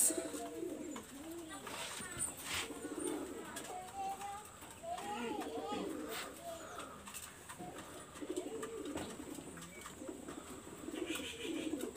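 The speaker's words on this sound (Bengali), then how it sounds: "আমি এখানে একটা কবুতর দেখাচ্ছি" A female Pakistani high-flyer pigeon of the Kamagar type gives soft repeated coos, fairly close, with someone talking over them.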